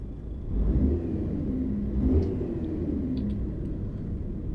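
A Neoplan Tourliner bus engine in Euro Truck Simulator 2 drones and rumbles steadily, swelling slightly as it revs, with a low whirring retarder braking hum beneath.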